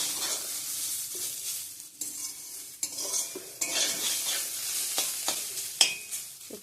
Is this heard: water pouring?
no